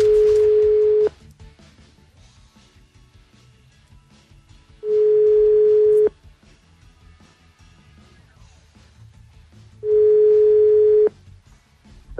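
On a radio morning show, a call is placed to a listener and three long ringing tones sound, about five seconds apart, each clear and steady over a quiet line.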